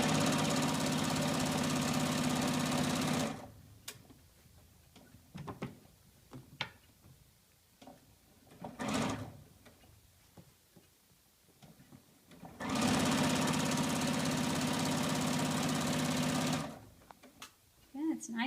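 Two loud bursts of a sewing machine stitching straight down a quilt border, each a few seconds of rapid, even whirring, separated by a quieter stretch with soft handling noises.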